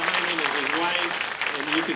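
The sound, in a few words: audience applause at an award announcement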